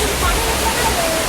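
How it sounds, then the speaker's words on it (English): Wayangani waterfall near Vengurla pours in a loud, continuous broadband rush of falling water, close and steady throughout the brief moment. "this is the wonderful waterfall."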